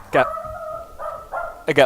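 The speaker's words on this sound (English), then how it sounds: "own dog barking in the background" A pet dog barks a few times in the background, short yips and whining barks between spoken commentary over gameplay.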